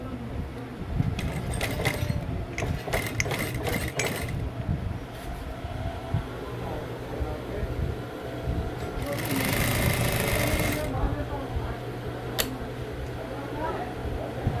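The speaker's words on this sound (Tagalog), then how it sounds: "I-ano ko muna siya sa single machine." A single-needle sewing machine stitches a dress in bursts of rapid mechanical whirring, with a longer steady run near the end, while a person talks at times over the machine noise.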